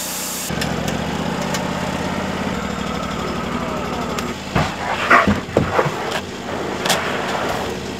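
A saw rips through a pine log to make boards for house siding, its steady engine drone and cutting rumble running throughout, with clattering handling noises near the end.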